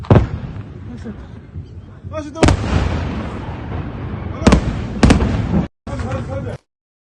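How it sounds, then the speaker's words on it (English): Iranian missiles strike past Israel's Iron Dome. A run of sharp, loud blasts lands over a continuous rumbling background, with about four distinct bangs spaced irregularly and the sound cutting out abruptly near the end. "This is how Iran's missiles penetrate the Iron Dome and reach their targets."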